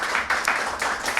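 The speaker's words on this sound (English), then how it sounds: "a round of applause" An audience applauds at a Pride Month celebration event, with a short burst of dense, fairly loud clapping from many hands, steady and near.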